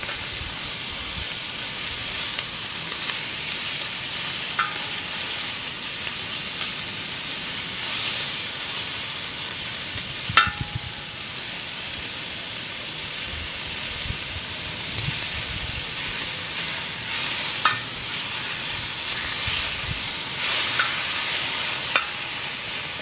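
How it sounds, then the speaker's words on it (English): Bacon pieces sizzling on an outdoor cooking disc, a loud steady frying hiss throughout with occasional metal scrapes and clicks as the pieces are worked around. "we're just going to throw that bacon straight into the disc and start working it around a little bit"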